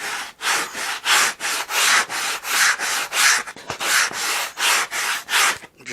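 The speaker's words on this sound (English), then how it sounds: "Don't do this, or you'll sand you a big old flat place in there." Hand sanding along the edge of a wooden horizontal stabilizer for a model aircraft build, heard as steady rhythmic back-and-forth rasping strokes, close and fairly loud, about a dozen passes with no talking.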